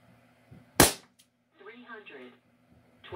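A single sharp crack of an ASG Dan Wesson 357 CO2 pellet pistol going off at close range, followed by a brief echo and then someone talking.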